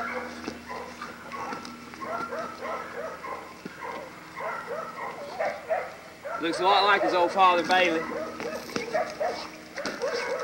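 Pit bulls in a breeding yard bark and whimper at moderate distance while someone talks over them, the barking growing louder and more excited toward the end.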